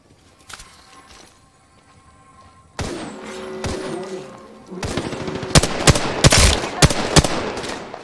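Gunfire in Apex Legends: quiet at first, then sudden bursts of rapid automatic fire and sharp individual shots cracking close by, growing denser toward the end.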